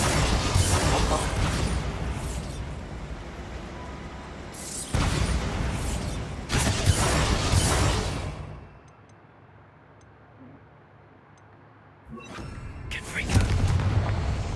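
Blasting spells cast in Hogwarts Legacy go off as several loud, close booms and crackling bursts with rumbling tails, a quieter lull in the middle, and talk in places.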